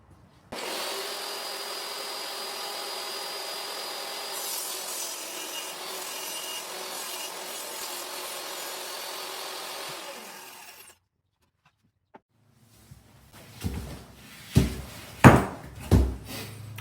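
A saw cuts closet shelving to size, rasping steadily for about ten seconds before stopping. A few loud knocks and handling thuds follow.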